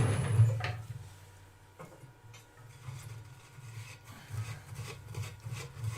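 A hollowing tool carves shavings from inside a wooden vase with a steady, close scraping and rubbing sound over a low continuous hum, swelling and easing slightly as the cut goes on.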